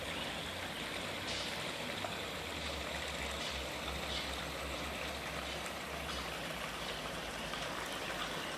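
Continuous babbling brook with water spilling from a drain tile, a steady close gurgling rush and trickle with no voices over it.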